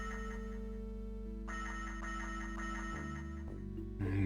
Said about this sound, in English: The ringing is louder than it's ever been.